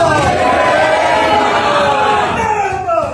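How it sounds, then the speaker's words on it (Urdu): A large crowd loudly chants political slogans, many overlapping voices in steady unison at a rally honouring a jailed leader's family. The dense roar carries on throughout without a break. "کس قسم کے نعرے لگائے جا رہے تھے ذرا سنیں"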